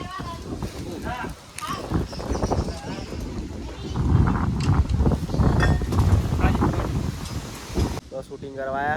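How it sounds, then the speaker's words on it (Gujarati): Strong wind blows outdoors, buffeting the microphone in heavy rumbling gusts that swell and ease, while people talk over it. "કેટલો વાયરો આવ્યો"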